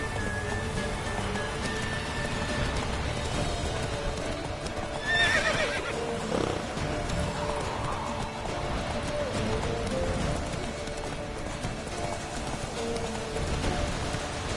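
Geralt's horse Roach in The Witcher 3 trots with steady hoof clops under falling rain, and a whinny rises briefly midway, all set against constant ambient noise.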